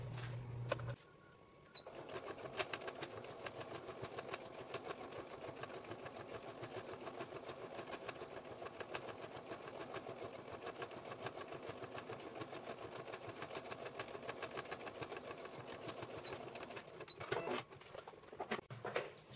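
A sewing machine stitches an old towel into a bath mat, its needle running in a rapid, continuous mechanical whir after a brief pause near the start, fairly faint and close.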